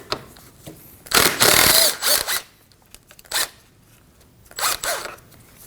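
A ratchet loosens the 10 mm intercooler bolts on a 2.0L Ford Edge with several quick bursts of rasping clicks, one long and the others shorter, separated by quiet gaps and heard close up without speech.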